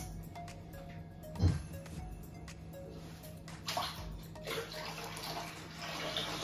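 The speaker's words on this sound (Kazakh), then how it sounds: "Енді үстіне су құямыз." Water poured into a mixture of fresh orange juice, dissolved sugar and lemon for homemade juice: a soft rushing splash that starts partway through and continues unevenly, fairly quiet, after a brief low knock near the start.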